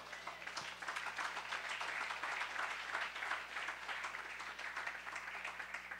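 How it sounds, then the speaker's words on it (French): Church congregation applauding together during a French-language service, a dense steady wash of clapping from many hands holding evenly throughout, moderately distant with room reverberation. "acclamons très fort le Seigneur"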